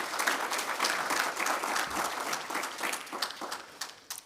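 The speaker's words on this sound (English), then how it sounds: "A round of applause for the guests." An audience applauding the guests at an actuarial society convention in Zimbabwe, with sustained, crowded clapping that stays steady and fairly loud before thinning toward the end.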